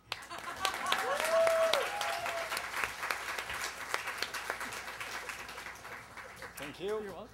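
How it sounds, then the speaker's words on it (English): An audience at a storytelling event applauds, steady dense clapping from a crowd filling the room, with a voice speaking over it briefly. "Keep clapping."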